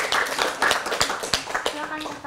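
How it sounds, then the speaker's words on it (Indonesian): A few scattered, separate hand claps ring out at a university graduation event, uneven and fairly close, mixed with voices talking in the background. "tepuk tangan"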